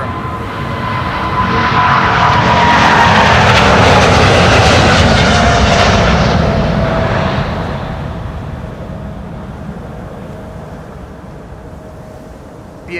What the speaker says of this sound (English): This is KLM flight 661 to Houston in Texas